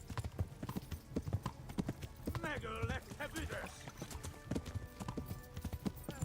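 Horse hooves clip-clop at a steady trot on a path in the medieval video game Kingdom Come Deliverance, a clear, even rhythm of hoof strikes throughout, with a voice briefly heard over them.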